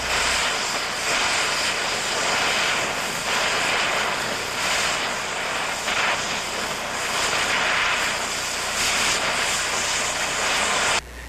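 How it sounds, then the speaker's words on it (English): An oxy-acetylene torch cuts metal with its cutting jet, giving a loud, steady, close roaring hiss that runs unbroken for about eleven seconds with no talking. "Back the torch away and ease off the cutting jet lever to slow down the cutting jet."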